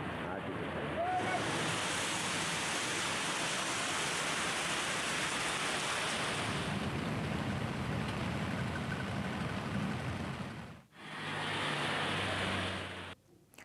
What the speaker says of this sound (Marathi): रायगडच्या खोपोली आणि कर्जतमध्ये मुसळधार पावसाला सुरुवात झाली आहे